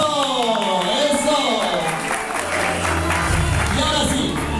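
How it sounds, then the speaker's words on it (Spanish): Wedding reception crowd applauding at a night celebration, a dense wash of clapping and cheering voices filling the room, loud and continuous, with an MC's voice talking over it. "¡El aplauso, el aplauso!"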